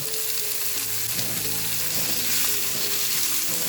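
Tomatoes go into a hot pan with fried dried red chillies, raising a loud, dense, continuous sizzle close by with light stirring, and no voices.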